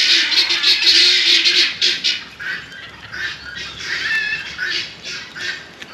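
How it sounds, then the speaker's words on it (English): Birds squawk outdoors on a farm, a steady chorus of harsh, repeated calls filling the background without speech. "The birds aren't gonna let me talk."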